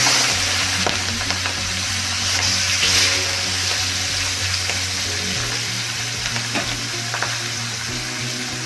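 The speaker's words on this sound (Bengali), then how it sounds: "লো টু মিডিয়াম হিটে ভাজতে হবে" Katla fish head pieces fry steadily in oil over low to medium heat, a continuous loud sizzle and crackle with occasional stirring scrapes throughout.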